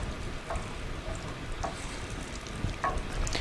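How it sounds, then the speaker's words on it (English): A lemon sage butter sauce made with lemon juice simmers gently in a pan, giving a steady soft sizzle and bubbling with faint occasional pops throughout. "It's got a little bit of simmer going, which I like."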